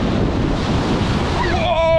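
Surf rolls and crashes continuously at Melbourne Beach, loud and close with heavy wind buffeting the microphone, a steady wash of breaking waves with a brief voice near the end.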